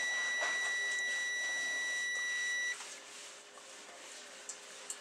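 Multimeter continuity check across a paired set of motor winding wires, a steady high electronic beep sounding for nearly three seconds before cutting off, followed by faint handling noise.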